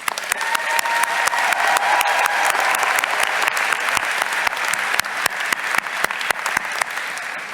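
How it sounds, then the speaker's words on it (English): Crowd applause for graduates at a college spring convocation ceremony, a loud, sustained patter of many hands clapping with sharp individual claps standing out close by throughout. "let us take a moment to acknowledge that with a round of applause"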